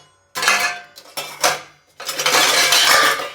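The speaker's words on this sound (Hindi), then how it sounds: "मैं कुकर की बाकी सारी चीज़ें ढूंढ रहा हूँ जिसमें राइस बनाएंगे" Pressure cooker parts and steel pots clatter and clink as they are rummaged through in a home kitchen, three loud, close bursts of metallic handling with brief pauses between.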